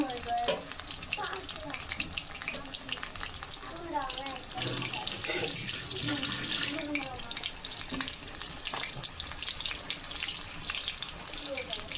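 Mushroom chops coated in gram flour batter fry in hot oil at a street snack stall, a constant bubbling sizzle with scattered clatter, while people talk faintly in the background.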